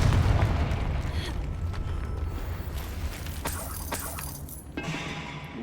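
A Confringo blasting spell goes off in the Hogwarts Legacy video game, a dense rumbling boom that opens loud and stays thick with crackling bursts and a sharp pop near the end.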